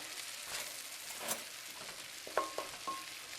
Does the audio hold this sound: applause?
no